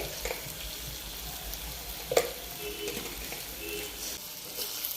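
Chili and turmeric powder get stirred into Kerala-style chicken curry being turned into chicken roast in a pan; a continuous close sizzle with occasional scraping and clinks of the spoon against the pan, no talk.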